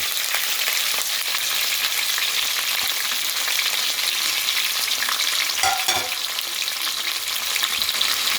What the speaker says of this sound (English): we're adding all these seasonings to the pot, and we're gonna let it saute